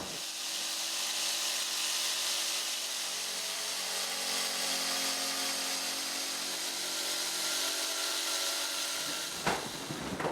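A power saw cuts a wooden form for a tenor guitar close to the line, a loud steady whine and rasp running for about nine seconds before it stops, followed by a brief clatter.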